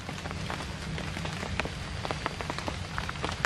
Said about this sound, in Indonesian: Oke, ini masih hujan.